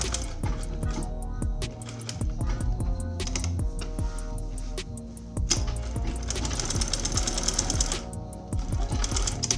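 A sewing machine stitching the placket of a senator top, rapid rhythmic mechanical clatter in bursts with brief pauses and a louder, faster run near the end, close up.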